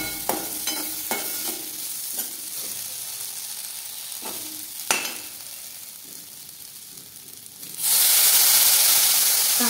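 Okra sizzles in a pan on low heat for stuffed bhindi, a soft hiss with scattered stirring clicks, then a sudden loud burst of steamy spitting near the end.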